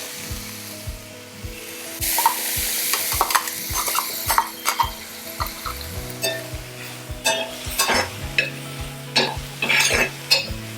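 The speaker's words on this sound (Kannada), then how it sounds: "ಇದನ್ನು ಈಗ ನಾವು ಈ ಒಗ್ಗರಣೆಗೆ ಸೇರಿಸ್ಕೊಳ್ಳೋಣ" Fenugreek paste, ground with a little water to a chutney consistency, is stirred into hot tempering for a fenugreek-leaf palya; it sizzles steadily while a spoon scrapes and knocks against the pan in repeated strokes.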